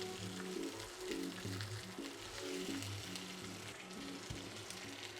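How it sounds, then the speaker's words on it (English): Sausages sizzling on a grill over slightly lowered heat, a faint, steady crackling hiss that carries on evenly throughout, with no voices. "We're gonna grill up our sausages."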